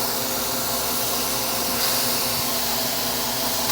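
Shrimp with lemon pepper sear in a dry pan, making a loud, steady broadband sizzle that hisses on without a break.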